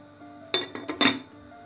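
A metal lid set onto a cooking pot of stewing meat for a plum and spinach stew, a few quick close clinks and rattles in under a second, over a faint steady kitchen hum.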